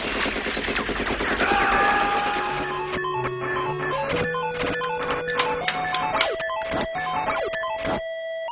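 Rapid chiptune gunfire from the NES-era Rambo video game crackles in fast bursts over beeping synthesized melody lines, loud and busy, with sharp repeated shot blips toward the end.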